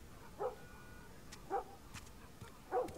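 Three short, sharp dog yelps in The Last of Us Remastered, spaced about a second apart over a quiet background hum, sounding somewhat distant and thin.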